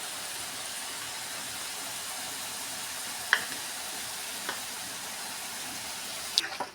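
A spice mixture with salt being stirred in a pan, producing a steady hiss of frying with a few sharp clinks of a spoon against the pan.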